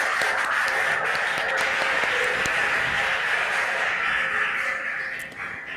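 Steady audience applause fills a school quiz contest at a regional qualifier, dense and continuous throughout before easing slightly near the end.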